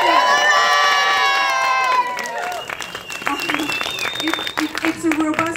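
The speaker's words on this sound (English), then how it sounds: "It's a robust crowd." A theater audience at a Q&A for a documentary claps and cheers as one continuous wash of noise, with a sustained whoop carrying at the start, then scattered clapping and shouts that thin out toward the end.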